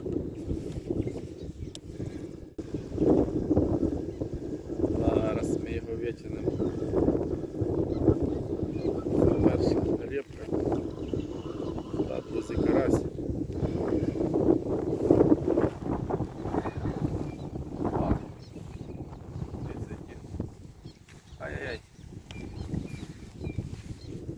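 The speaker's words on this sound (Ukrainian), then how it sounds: "вітер такий просто сумасшедший" Gusty wind buffets the microphone in low rumbling bursts throughout while carp and crucian carp fishing, with faint talk and splashing underneath.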